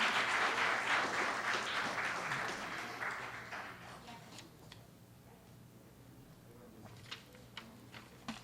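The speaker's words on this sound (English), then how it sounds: "Another round of applause for grade 10." An audience at a school awards ceremony applauds for grade 10 recipients, a full burst of clapping that thins and fades over several seconds until only a few scattered claps remain.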